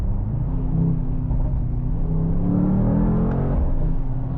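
Mercedes-AMG GT 63 S E Performance, a four-door hybrid with turbos, accelerating under load: a steady, close engine rumble and rising drone that holds loud throughout without a break.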